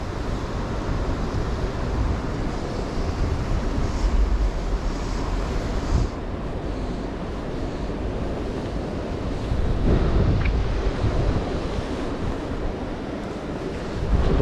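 Gusty wind roars steadily across the Gamata River, a mountain tributary of the Takahara River, with loud broadband rushing mixed with flowing water, swelling around midway and again near the end.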